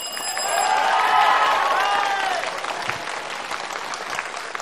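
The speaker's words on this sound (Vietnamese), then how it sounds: "quý vị khán giả vỗ tay gì?" Studio audience on the Vietnamese game show Vua tiếng Việt claps and cheers loudly, swelling early and then tapering into scattered clapping, with a few voices calling out.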